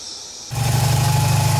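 A Mazda RX-7 FC rotary engine with freshly installed stainless oil cooler lines fires up abruptly after a quiet moment and settles into a loud, steady, slightly pulsing idle close by.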